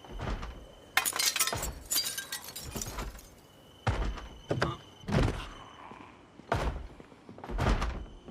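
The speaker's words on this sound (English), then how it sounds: "Did you just break a window instead of coming out through the open door?" A zombie smashing a glass window in the video game Project Zomboid, a series of sharp, loud thumps and crashes with bright shattering bursts, spaced irregularly over several seconds.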